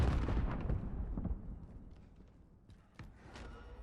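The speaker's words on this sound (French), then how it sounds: "Je lance une grenade." A grenade exploding in Call of Duty Warzone, a heavy boom at the start that rolls off into rumbling debris, followed by a couple of fainter distant thumps.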